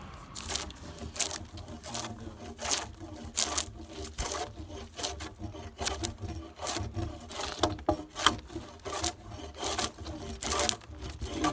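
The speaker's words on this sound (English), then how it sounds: "So we're gonna shave this log, cut all these knots off, get rid of these knots." A blade shaves bark and knots off a log, making repeated scraping, rasping strokes in an uneven rhythm, close and moderately loud, with no talking.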